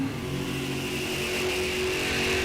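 Drag race car engine held on a throttle stop at a Sunoco Race Fuels ET Series event, a loud steady droning rev that climbs slightly in pitch, close and continuous with no talk.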